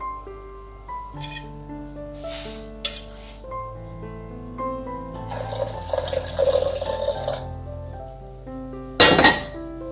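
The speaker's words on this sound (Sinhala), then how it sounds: "දැන් අපි මේ උතුරවගත්ත කිරි එක මේකට දාගනිමු" Boiled milk is poured into simmering spiced masala tea in a pot, a soft liquid splash and trickle with a few metallic clinks, under steady background music.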